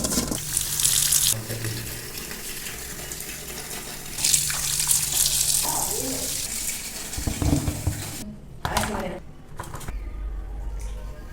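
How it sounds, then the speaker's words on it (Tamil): Raw meat that has had its skin cleaned is rinsed under a running tap, water gushing and splashing steadily into a sink, cutting in and out with handling noises and a few louder splashes near the end. "இது வந்து இப்போ நம்ம கழுவி எடுத்துக்கலாம்"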